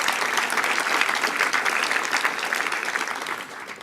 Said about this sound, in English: Give the president a big round of applause